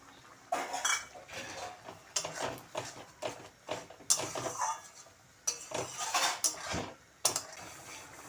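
Soaked tamarind pulp goes into a cooking pan of sesame and pea curry, with irregular clinks and scrapes of a utensil against the pan coming in short bursts, close and fairly quiet.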